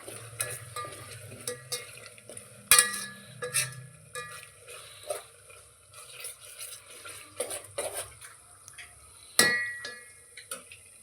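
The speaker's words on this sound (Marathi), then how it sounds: "हे पण सगळं व्यवस्थित हलवून घ्यायचं आहे" A spoon stirs egg biryani masala mixed with curd in a metal pan, giving scattered clinks and scrapes against the pan with soft shuffling in between and a few sharper knocks.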